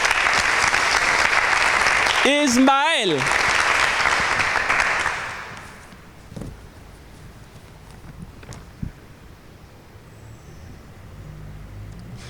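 A quiz audience at a Bible knowledge event bursts into loud applause for about five seconds, briefly broken by a short shout, then the clapping dies away, leaving a quiet room with a few faint knocks.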